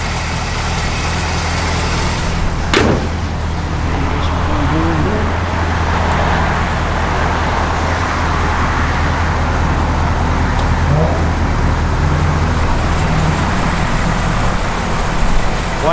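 A 1970 Chevrolet Chevelle SS with a four-bolt main engine drives along the road with a steady, loud engine drone and road noise, a sharp knock near the start, and voices talking over it.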